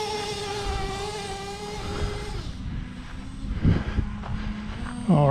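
A Traxxas T-Maxx 3.3 nitro RC engine runs at full throttle during break-in, a loud high whining buzz that holds steady, then dips and surges, close by.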